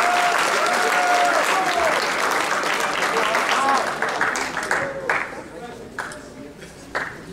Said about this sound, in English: Your freshman and JV team, give them a good big round of applause